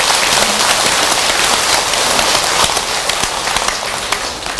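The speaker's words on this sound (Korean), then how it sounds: "박수 한번 올려야 돼요, 여러분." Sustained applause from an audience at a Buddhist ceremony, a dense even wash of clapping filling the whole stretch without speech.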